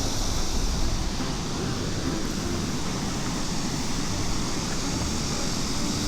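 Loud rushing river water swollen by heavy rain, a steady broadband roar that fills the whole scene without pause or talk.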